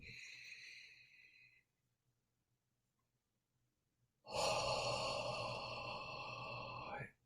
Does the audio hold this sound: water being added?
no